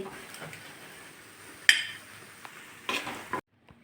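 A spoon scrapes cooked chickpea-greens curry with potato, eggplant and lentil dumplings out of a pan onto a plate: a soft scrape, then two sharp metallic clinks, followed by silence.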